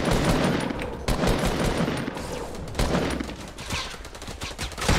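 Rapid bursts of gunfire in the Fortnite battle royale game, dense overlapping shots filling the whole stretch at steady loudness, with brief dips between volleys.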